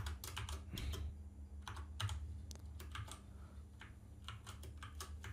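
Quick bursts of keystrokes on a computer keyboard while setting up a NodeJS and MongoDB project, close and clear over a low steady hum, with short pauses between runs of typing.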